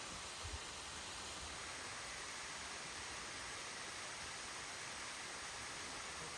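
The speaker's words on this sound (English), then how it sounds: "You can see there is actually a waterfall in Florida." Waterfall at Falling Waters State Park in Florida, heard as a steady, even broadband rush of falling water that holds constant from start to finish, with no voices over it.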